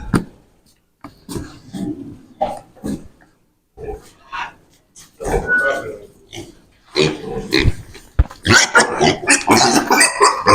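Young pigs squeal and grunt in bursts, close by, growing louder and more frantic toward the end, with a person's voice mixed in.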